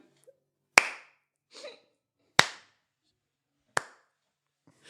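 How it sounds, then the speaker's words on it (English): A single man clapping slowly at an event, three sharp isolated claps spaced well apart in an otherwise quiet room, with faint shuffling between them. "Just one man clapping in the back"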